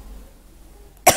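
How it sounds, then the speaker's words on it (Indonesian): A single sharp cough bursts out abruptly at the very end after near silence, loud and close to the microphone. "Maaf ya, ini lagi batuk ini."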